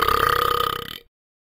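Talking Ben, the cartoon dog from the mobile game, lets out one long, loud, rumbling burp lasting about a second before it cuts off abruptly.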